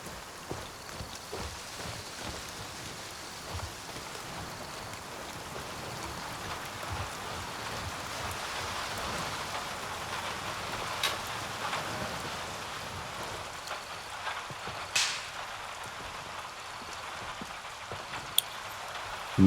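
Rain in the Grey Zone Warfare video game at night: a continuous, fairly quiet patter of rain with scattered louder drops and a few brief sharp knocks. There is no speech.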